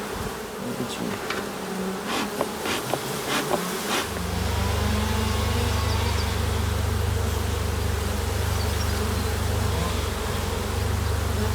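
Dense honeybee buzzing at an open hive frame packed full during a spring inspection, a steady loud drone that swells sharply after a few seconds with scattered brief clicks early on, no voices.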